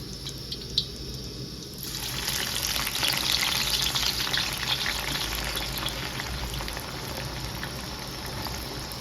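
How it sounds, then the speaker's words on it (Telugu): Sliced onions go into hot oil for chicken biryani, bursting into a loud, steady sizzle after a quiet start and crackling on without a break. "ఇప్పుడు మనం ఆనియన్స్ వేసుకుందాం దీంట్లో."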